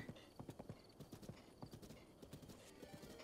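Horse hooves clip-clop steadily in The Legend of Zelda: Breath of the Wild, a rhythmic run of soft, quiet footfalls over a faint game background.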